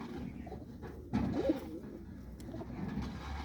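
A pet pigeon gives a low throaty coo, starting with a sudden swell and then trailing into quieter murmuring coos against a soft background hum.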